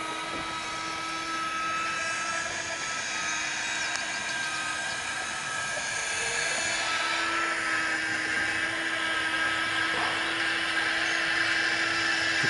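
A small electric motor on an automatic pop hole door of a chicken coop runs with a steady, continuous whine and hum, accompanied by faint outdoor background noise.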